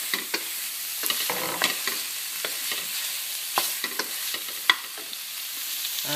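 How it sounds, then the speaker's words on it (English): Smoked salmon stirred in a pan over low heat: a gentle, steady sizzle under repeated scraping and tapping strokes of the spoon, close and unhurried, with no speech. "slowly stir that along, and you can smell the wonderful smell of smoked salmon"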